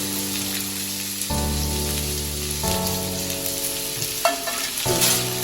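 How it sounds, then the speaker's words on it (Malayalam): Grated coconut fries in oil for shallot theeyal, a steady close sizzle running throughout with shifting tonal music underneath. "തേങ്ങ ചിരണ്ടി വെച്ചത് വറക്കുക."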